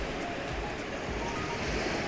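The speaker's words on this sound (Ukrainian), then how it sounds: "От там, от воно, от хвилі" Sea waves break on the beach at Pineto, Italy, a steady broadband wash of surf that rolls on without pause, fairly quiet and wind-touched, with no talking over it.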